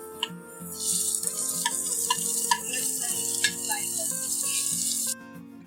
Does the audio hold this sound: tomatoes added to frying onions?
yes